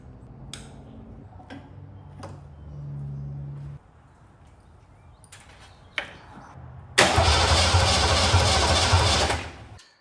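A Ford Fox body with a swapped engine running a standalone harness and ECU cranks in a few short clicks and bursts, then catches and roars loud and steady for about three seconds before cutting off.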